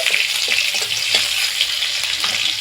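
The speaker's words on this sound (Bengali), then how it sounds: "ফোড়নের জন্য দিয়ে দিচ্ছি কালো জিরে আর দিয়ে দিচ্ছি দুটো চেরা কাঁচা লঙ্কা ফোড়নটা কয়েক সেকেন্ড একটু ভেজে নিচ্ছি" Nigella seeds and two slit green chillies sizzle in hot oil as a tempering for a brinjal and hilsa fish curry, a steady, close crackling fry with no voices.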